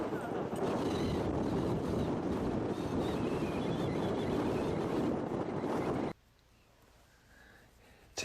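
Strong wind buffets and roars across an open disc golf course in Wyoming, a loud steady rush for about six seconds that suddenly drops to a faint hiss.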